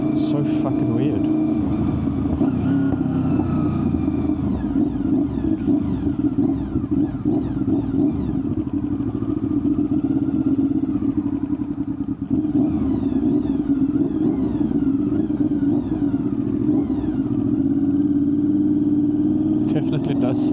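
Honda VFR800fi motorcycle engine misfiring while riding, a steady close rumbling drone with uneven stutters running throughout under wind noise.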